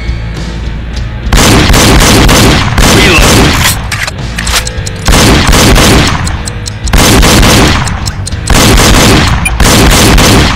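Repeated gunshots and booming blasts from the Wii shooting game Reload come in loud, dense bursts of several seconds, broken by brief quieter gaps, with voice prompts between rounds.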